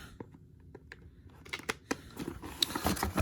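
Snips cut through plastic packaging around a Star Wars Black Series Hoth Wampa figure. Sharp clicks and crunchy snips start sparse and faint, then grow denser and louder, mixed with crinkling plastic.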